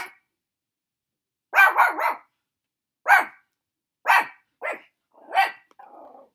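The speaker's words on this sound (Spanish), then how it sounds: "Disculpen a mi pequeña perrita." A small female dog barks in short bursts: a quick triple yap, then single sharp barks spaced about a second apart, fairly close and loud.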